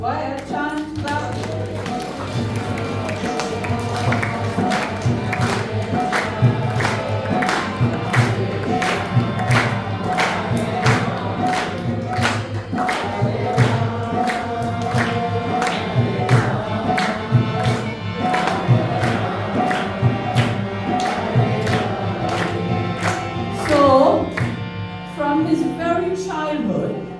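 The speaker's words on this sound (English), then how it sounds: "Go ahead, chant, clap." A crowd at an ISKCON Gaura Purnima drama in Trinidad chants holy names and claps hands in a steady rhythmic beat, loud and continuous with massed voices throughout.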